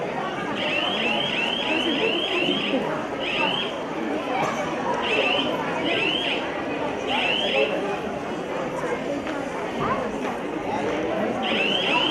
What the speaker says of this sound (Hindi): बजर प्रेस कर ले एक बार।